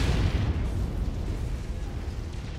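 A missile explosion in the MechWarrior 5 mech combat game gives a loud, continuous rumbling boom that fills the whole stretch with dense low-end roar and no clear break.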